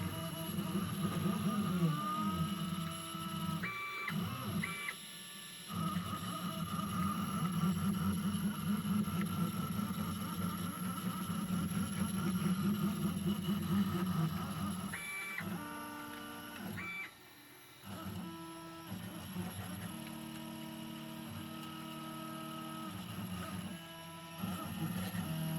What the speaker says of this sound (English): Typical sounds from a CNC with the steppers winding around.